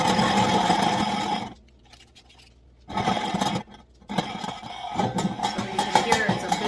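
Grainmaker 99 hand-cranked grain mill grinding grain on a fine setting, a dense, steady rasping grind that stops twice briefly before resuming, close and fairly loud.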